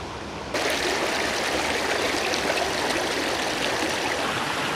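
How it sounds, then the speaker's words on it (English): A mountain creek flows steadily above a waterfall, a dense broadband rush of water that cuts in loudly after a brief quiet start and continues unbroken, close and alone with no voices. "I'm standing here middle of the creek"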